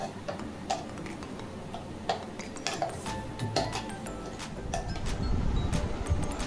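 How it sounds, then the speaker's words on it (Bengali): A spoon stirs a kulfi cream mixture with ground cashew in a kitchen pot, giving light irregular ticks and clinks of metal against the vessel over a steady low background hum. "দিয়ে একটু নাড়িয়ে নেব।"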